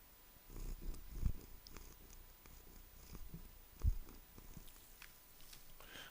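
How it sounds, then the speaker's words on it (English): A cat purrs very softly close by, a faint low rumbling rhythm with a couple of small soft thumps and rustles over a quiet room. "Oh, you might actually hear her purring."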